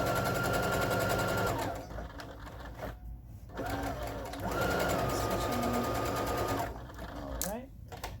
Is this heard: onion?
no